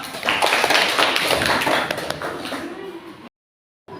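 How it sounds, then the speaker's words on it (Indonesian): A classroom group claps for the first presenting group after their discussion, a short burst of dense, fairly close handclaps that fades out after about three seconds, with voices mixed in. "berikan tepuk tangan untuk kelompok pertama"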